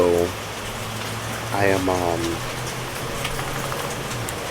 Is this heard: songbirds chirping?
no